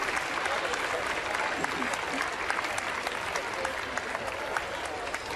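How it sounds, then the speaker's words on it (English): Applause from the crowd at an outdoor royal dog show as the retiring best of breed winners leave the ring, a steady, moderately distant patter of clapping throughout. "Please give your applause to the retiring utility best of breed winners"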